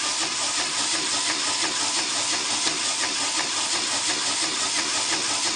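A fischertechnik pneumatic pivot motor runs continuously, giving a steady, close hiss of escaping air with a faint mechanical buzz and no breaks.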